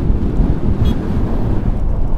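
Strong wind buffeting the microphone on a hillside along a motorcycle route, a continuous loud low rumble with gusty surges throughout, no voices.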